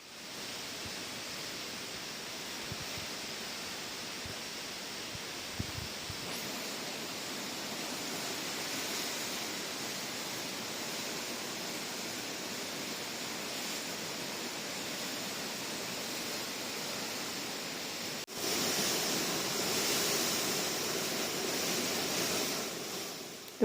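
The River Tay in flood after an October storm rushes in a broad, continuous roar of water, steady and fairly distant, swelling louder toward the end, with no voices.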